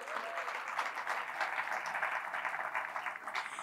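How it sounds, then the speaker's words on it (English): An audience at an awards ceremony claps steadily for a few seconds, a dense, even wash of applause with no voices. "Let's give a round of applause for all of our judges."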